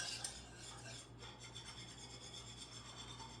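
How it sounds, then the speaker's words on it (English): A whisk scraping and rubbing steadily around a bowl as confectioner sugar is mixed into a chocolate ice cream base, a soft, continuous rasping stir with no voices. "we're whisking this all together"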